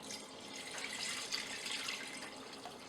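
About three cups of chicken stock are poured steadily into a pressure cooker, making a soft continuous liquid splash and trickle heard alone and fairly quiet.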